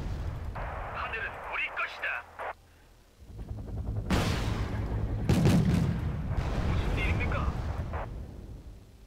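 Gunfire and artillery in the war strategy game Wargame Red Dragon: a steady roar of shots and booms that swells into heavy rumbling blasts, with game radio voices breaking through at moments.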